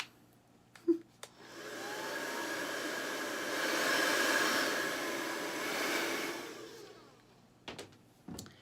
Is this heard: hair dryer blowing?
yes